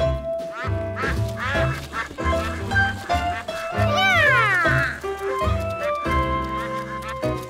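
Cartoon ducks swimming on a lake among popcorn quack repeatedly in a bright, comic chorus over light music, the calls loud and close, with brief narration in between.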